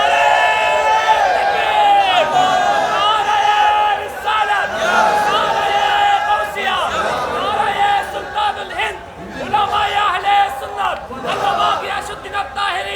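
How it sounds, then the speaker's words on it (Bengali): A large crowd shouts a slogan in unison, loud and close, with rhythmic bursts of many voices rising and falling across the whole stretch. "একটা স্লোগান লাগান"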